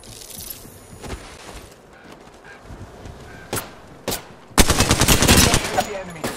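Gunfire in the Apex Legends battle royale game, with scattered single shots early, then a sustained burst of rapid automatic fire near the end, loud and close, with brief game voice lines mixed in.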